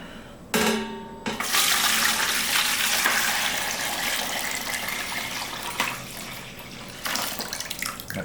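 Brine pours steadily into a pan for marinating pastrami, a continuous splashing gush that starts abruptly and runs for several seconds with small surges.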